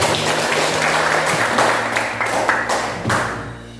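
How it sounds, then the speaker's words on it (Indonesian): A classroom of students claps for a classmate's answer, a dense burst of applause that swells in uneven waves and fades toward the end, close and lively with no talking over it. "Kita aplaus dulu untuk temannya."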